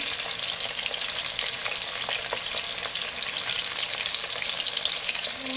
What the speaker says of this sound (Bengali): আজকে একটু ভেজে নিলাম